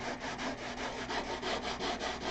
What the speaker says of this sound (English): you got to really love sanding